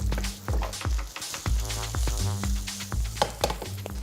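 Garlic hits a hot pan already holding lamb and fennel, sizzling and crackling up close while a spoon stirs in repeated sharp strokes over a low, steady hum.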